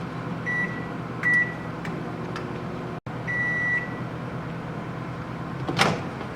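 A microwave oven runs for a 30-second burst heating chocolate, a steady low hum with a few short beeps and a brief cut near the middle, then a door-like clunk at the end.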